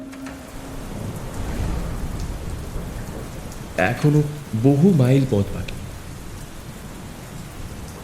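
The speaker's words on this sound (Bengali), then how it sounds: "ঝমঝমিয়ে বৃষ্টি নামল" Heavy rain with thunder as a sound effect in a Bengali horror audio story, a steady wash of rainfall and low rumbles throughout, with a voice narrating briefly over it midway.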